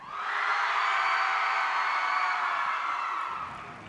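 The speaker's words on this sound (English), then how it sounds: "Let's give them a round of applause. make some noise. As loud as you can." A large audience at a Wyoming FFA Association general session roars with sustained cheering and applause, a loud, even wash of crowd noise that swells and then tapers off near the end.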